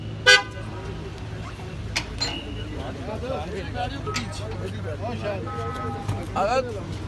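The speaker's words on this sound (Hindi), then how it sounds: "उसमें रजब भट्ट साहब की गाड़ी है। और ये अभी जा रहे हैं" A car pulls through the gate of the Islamabad High Court amid road traffic, with a sharp horn toot near the start and a few softer honks later over a steady engine and street rumble. Background voices are heard.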